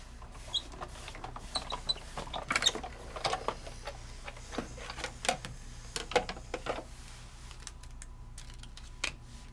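Sizzix Impresslit embossing plate with a do-not-cut plate being cranked through a die-cutting machine, giving a steady run of soft mechanical clicks and ratcheting taps, close and fairly quiet, with no talking.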